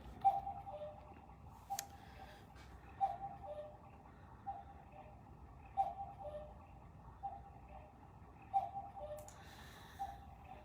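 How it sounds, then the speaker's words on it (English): A cuckoo clock ticks steadily and faintly in a quiet room, with soft regular clicks and slightly louder accented beats recurring every few seconds, alone with no speech. "you can hear my cuckoo clock telling us it's time"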